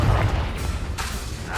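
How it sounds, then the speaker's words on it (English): Confringo fire spell blast in the Hogwarts Legacy video game, a loud low boom that rolls into rumbling debris with a couple of sharper crackling bursts trailing after. "How dare you use Confringo."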